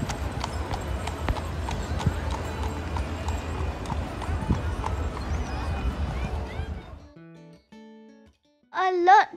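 Steady clip-clopping of horse hooves on pavement at a seaside pier in Blackpool, with a busy crowd murmuring around, then a brief lull and a short musical jingle at the end.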